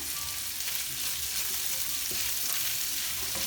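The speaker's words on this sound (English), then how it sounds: "Okay, so the bacon is cooking up, just barely starting to brown on some edges." Bacon and onions sizzle in a pan over medium heat, a constant close crackle broken by faint clinks of a utensil stirring.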